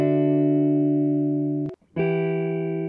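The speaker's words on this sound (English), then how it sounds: "So the guitar by itself sounds like this." An unprocessed guitar rings out as two sustained chords, the first held long then cut off by a short gap before a second chord sounds, clean and loud with no voices.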